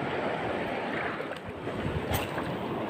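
Sea waves wash and churn steadily around a small fishing boat, with loud continuous water noise and gusts of wind buffeting the microphone.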